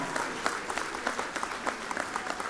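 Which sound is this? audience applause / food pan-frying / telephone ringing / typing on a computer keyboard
audience applause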